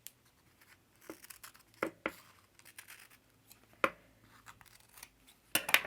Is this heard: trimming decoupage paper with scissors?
yes